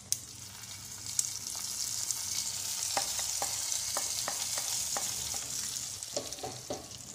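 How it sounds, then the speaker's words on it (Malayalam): Mustard seeds, dried chillies and curry leaves fry in hot coconut oil as a tempering for beetroot pachadi: a constant loud sizzle with scattered pops and crackles, heard alone with no voices. "വെളിച്ചെണ്ണ ഒന്ന് ചൂടായതിന് ശേഷം നമുക്കിതിലേക്ക് കടു ചേർക്കാം."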